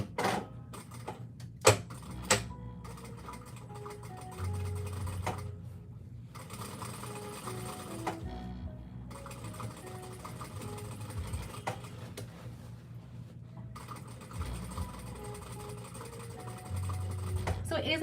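A sewing machine stitches a girl's dress in fast steady runs with brief pauses between seams, a close whirring hum, while a person talks over it.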